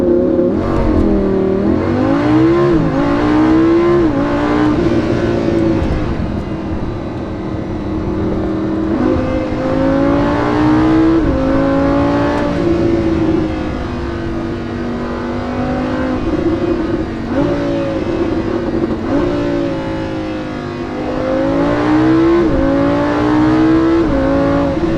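A Lamborghini Huracan engine accelerates on the road, loud and close, its droning note climbing in pitch and dropping again several times as it works through the gears, with no talk over it.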